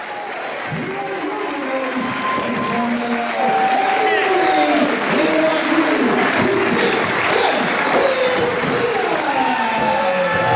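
A packed wrestling crowd at a Limitless Wrestling tag match rises in standing applause, loud, sustained clapping and cheering that swells and holds for several seconds, with a commentator's voice running over it.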